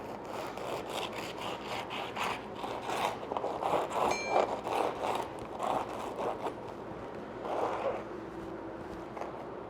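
Knife sawing through a crispy baked baguette, with repeated rhythmic crackly scraping strokes close up, building to louder crunchy cuts midway, then a final burst of crackling.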